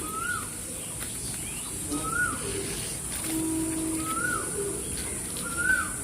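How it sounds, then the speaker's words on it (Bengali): A pigeon coos several times at an unhurried pace, close by, over a soft background hum. "এটা নতুন পায়রা আছে"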